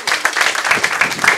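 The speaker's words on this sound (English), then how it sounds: "A big round of applause" Students clap for a new lecturer in a university lecture hall, a short burst of dense, steady applause with scattered louder claps and faint voices mixed in.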